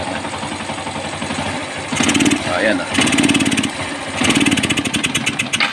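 A motorcycle engine with a hiccuping, stumbling idle is revved in three sharp bursts between rough idling, close and loud, with someone speaking briefly.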